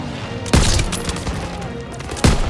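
Gunfire in the Call of Duty WW2 video game: close, dense bursts of shots, with two heavy impacts punctuating a rattling stream of fire across the whole short stretch.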